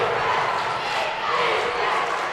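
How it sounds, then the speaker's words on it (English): Boisterous crowd at a boys high school basketball game between the Rangers and Mustangs, Big Pasture at Fort Cobb-Broxton, a steady loud roar of cheering and yelling filling the gym throughout, with voices mixed in. "Crowd really into it on both sides so far."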